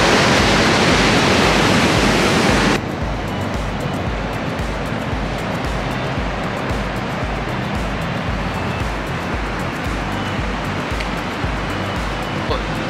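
Steady, heavy roar of Niagara's Horseshoe Falls fills the whole clip, loud and continuous, with a brighter rushing hiss at the start before settling into a deeper rumble.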